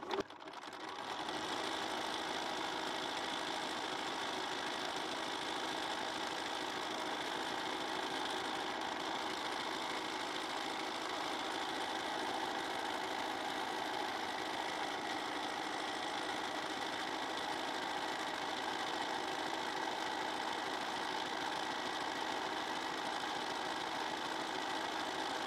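A sewing machine runs a continuous zigzag stitch across a quilted fabric postcard, a steady rapid mechanical whir that starts abruptly and holds at an even pace and loudness for the whole stretch, close up with no talking.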